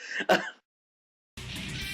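A short, sharp throat clearing and cough from a nearby voice, followed by a pause of silence and then a burst of background music.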